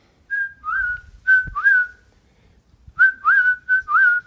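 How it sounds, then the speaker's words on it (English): A traditional Parisian roofer's whistle, two bright melodic phrases of rising and falling whistled notes separated by a short pause, clear and close with no talking. "my friend even recreated the famous roofer's whistle"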